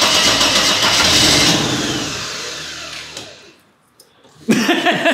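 A Mercedes-Benz car that has sat unused for months cranks and fires up, a loud churning start that settles and fades, then catches again with a sharp burst of engine noise.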